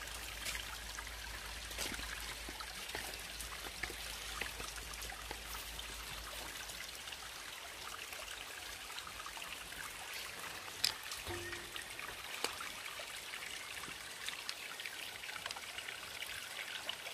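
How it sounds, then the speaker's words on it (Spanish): Small spring of natural water trickling and dribbling continuously, faint and close, with scattered soft drips and no voices. "Bien bonito ese nacimiento de agua."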